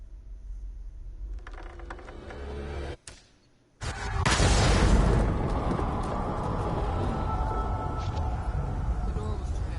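Bomb exploding in the video game Hidden Agenda: a brief hush, then a sudden loud blast followed by a long rumbling roar of debris, with voices talking before it.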